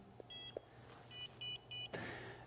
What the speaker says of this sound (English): If I swipe a barcode the Hiku doesn't recognize, I'll get a tiny little beep